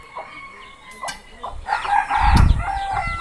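Chickens cluck and a rooster crows loudly and close by on an organic farm high in the mountains, with small chicks among the flock; clucks come in short bursts before the crow rises and holds near the end.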